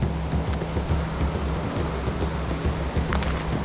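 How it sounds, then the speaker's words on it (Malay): Steady rain patters outside, a dense hiss of drops with a low hum underneath, during river fishing in Jelebu, Malaysia. "Kat luar dah hujan dah."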